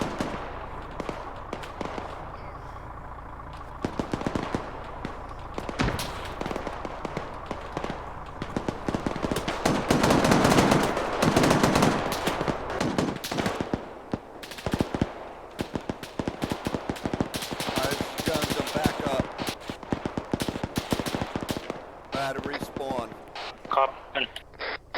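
Gunfire in a tactical military operation crackles in dense, repeated bursts and single shots at varying distances, nearly continuous, while people talk over radio-style chatter.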